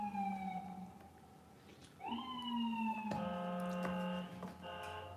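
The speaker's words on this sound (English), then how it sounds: "Hold on, that siren is loud." A loud emergency siren passes outside, its wailing tones sliding up and down with strong harmonics, steady and close for the whole stretch with no talk over it.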